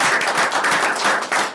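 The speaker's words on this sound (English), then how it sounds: "Let's give Mr. Ward a big round of applause." Audience applause from a seated crowd at a lecture on global trends in construction and research, dense steady clapping filling the whole stretch at close range with no voices over it.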